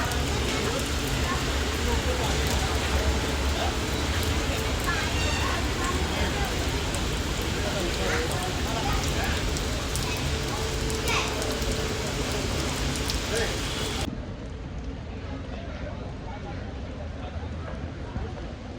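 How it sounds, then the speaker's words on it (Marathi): Monsoon rain falls steadily beside a river in Chiplun, a dense hiss of drops throughout that drops in level near the end, with no voices. "छान पाऊस पडतोय आणि एवढं सुंदर वातावरण झालंय"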